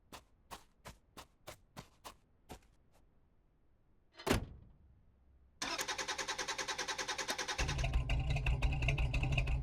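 Car in the driving game Drive Beyond Horizons: a run of footsteps, a door thud, then the engine cranks, catches and settles into a pulsing idle before revving louder as it drives off.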